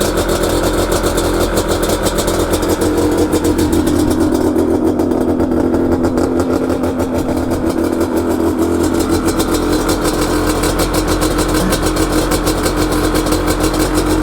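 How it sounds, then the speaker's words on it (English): A Yamaha Banshee ATV's two-stroke engine idles steadily with a rapid, buzzing putter, close and loud, holding an even rhythm throughout. "Listen to that engine, guys."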